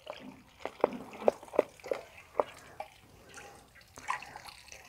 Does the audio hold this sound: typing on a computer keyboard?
no